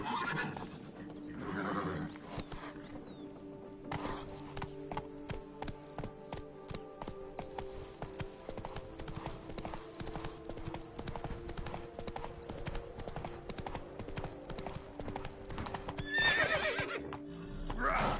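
In The Witcher 3 video game, a horse gallops with steady, rapid hoofbeats throughout, along with a neigh, a short spoken command and game music low underneath.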